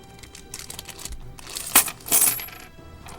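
Chunky Australian coins clink and rattle as they are handled, with a couple of sharp bright metallic jingles standing out over quieter shuffling, close and without talk.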